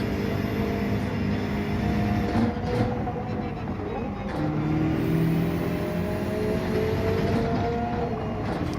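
A Subaru BRZ's engine drones steadily with a broad rumble and shifting harmonic tones, rising and easing slightly as it runs, with faint road and wind noise underneath.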